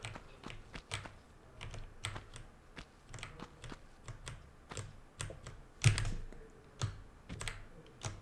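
Computer keyboard keys tapped while playing a tomb-raiding video game: scattered, sharp clicks at an uneven pace, fairly quiet and close, with occasional louder presses and no voices.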